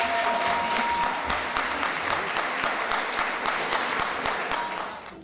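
An audience at a women's awards ceremony applauds its honorees with dense, sustained clapping that fills the room evenly before starting to fade at the end.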